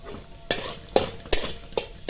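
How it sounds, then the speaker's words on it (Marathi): A spoon scrapes and clacks against a pan as roasted gram dal (futane) is stirred for Shingori amti, five sharp rhythmic strokes about half a second apart over a faint frying background, no talk. "आता टाकते मी भाजकी डाळ ज्याला आपण फुटाने पण म्हणतो"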